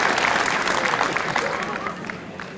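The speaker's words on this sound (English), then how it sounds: "And a bit of ironic applause for the marker" Ironic applause from a bowls crowd at the 1999 World Bowls Singles, a short, steady burst of clapping heard under a commentator's voice.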